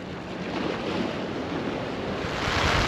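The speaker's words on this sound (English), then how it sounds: "it's very windy" Strong wind at a Florida coastal inlet roars steadily across the microphone with a broad rushing noise, growing a little louder toward the end, with no voices.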